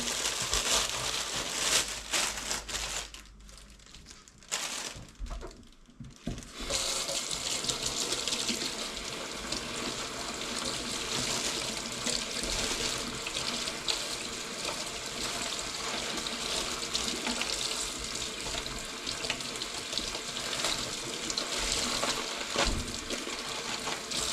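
Tap water runs steadily onto lettuce leaves being washed in a sink, a continuous close splashing stream broken by a brief pause early on, then flowing on without talk.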